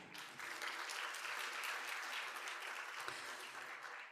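Sustained applause from an audience at the 2025 East Asia Future Forum, a dense wash of clapping that swells quickly and holds steady for several seconds.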